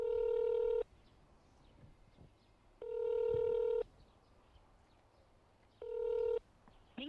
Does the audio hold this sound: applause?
no